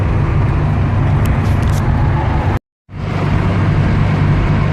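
A 1967 Volvo Amazon 122S cruises along a road, its steady engine drone and road rumble loud and constant, cutting out briefly to near silence partway through before resuming at the same level.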